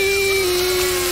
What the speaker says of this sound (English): I think it's best to just keep the chainsaw on the whole time.